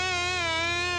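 A fly buzzes close by in a steady, loud, high drone with no talking.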